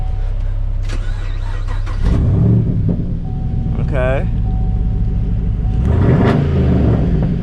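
A Chevrolet Camaro engine starts up nearby with a deep rumble and two sharp revs a few seconds apart, idling loudly between them while a person briefly speaks.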